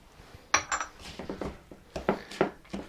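Gyoza filling being mixed in a bowl with garlic and salt, giving a run of clinking, scraping knocks at an uneven rhythm, close and moderately loud, with no talking.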